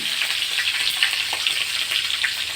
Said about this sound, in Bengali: এখন মূলত আমরা গরম তেলের মধ্যে সব কিছু দেবো। তেজপাতা, কাঁচামরিচ কুচি, তারপরে দিলাম দারচিনি